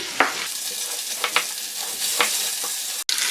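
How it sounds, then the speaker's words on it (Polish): Steady hiss of beef oxtails frying in oil in a pot, with a few clinks of a utensil stirring, fairly close and continuous. "Ogony się obsmażyły ze wszystkich stron."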